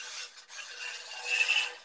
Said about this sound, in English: same spindle gouge and do some shear cutting with it by dropping the handle